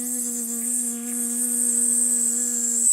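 A voice hums a steady, droning buzz for a few seconds, imitating an insect's flight.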